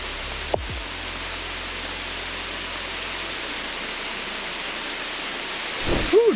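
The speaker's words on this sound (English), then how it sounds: "now it is raining" Heavy rain pours steadily through forest trees on a hiking trail, a dense, even hiss of drops on leaves holding constant throughout, with a brief knock near the start and some close rustling at the end.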